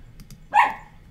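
A single sharp dog bark rings out at moderate distance, preceded by faint soft clicks and followed by a short fading tail.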